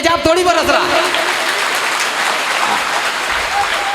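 An audience at a Hindi poetry gathering claps steadily and fairly close, a dense sustained patter of applause under a voice that speaks briefly at the start.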